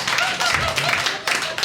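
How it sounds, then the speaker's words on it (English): Scattered applause from a small comedy club audience, a brief thin patter of a few hands clapping that fades and picks up again, fairly close. "3-person applause break."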